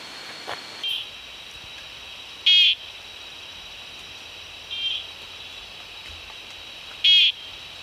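Male ornate nursery frog calling from a branch in forest at night, short high-pitched chirps repeating at intervals of about two seconds, with alternating fainter and louder notes over a quiet, faint insect hiss.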